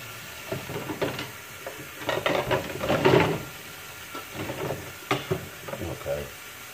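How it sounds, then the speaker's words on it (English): Washing dishes by hand, with irregular clinks, clatters and scraping of dishes moving about in the sink, close and fairly busy, swelling in the middle and continuing in scattered knocks. "Gotta do the dishes. I know you hear a lot of noise,"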